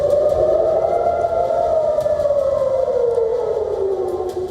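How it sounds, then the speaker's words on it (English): Air raid sirens in Israel wail loudly and steadily at night, the pitch slowly sliding down over several seconds. "Across Israel, sirens pierced the night."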